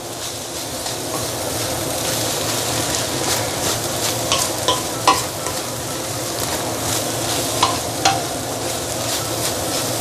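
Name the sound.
stir-frying fried rice with luncheon meat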